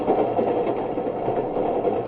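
A train sound effect for an old-time radio drama chugs steadily, a muffled, rhythmic clatter with a band-limited, vintage tone, loud and continuous with no voices.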